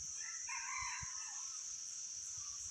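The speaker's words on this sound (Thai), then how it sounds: "ได้ยินเสียงไก่" A rooster crows once, moderately distant, over a steady high insect-like buzz in the background, with no voices.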